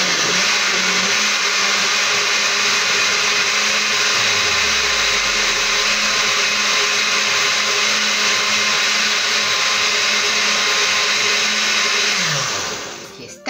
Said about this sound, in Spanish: vamos ahora a licuar el aderezo que hicimos con nuestra cebolla, nuestros ajíes, el pan, la leche y el caldo de pollo